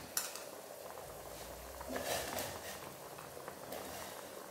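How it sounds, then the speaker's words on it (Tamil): Water bubbles and simmers in a pot, a soft continuous roil with occasional clinks of a utensil against the metal. "இப்போ இந்த தண்ணி கொதிச்சிட்டு இருக்கு"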